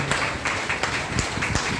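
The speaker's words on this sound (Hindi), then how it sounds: "एक बार फिर से जोरदार ताली" A crowd applauds at a motivational sales meeting, with steady clapping and a few sharper individual claps standing out, moderately loud throughout.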